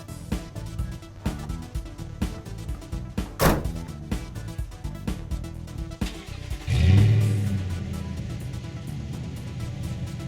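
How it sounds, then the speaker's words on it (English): The tailgate of a 2014 Toyota Tundra SR5 4x4 Double Cab pickup with an easy-lower tailgate opens: several light latch clicks and knocks, then one heavy, booming thunk as it drops and settles. "as we open the easy lower and lift tailgates"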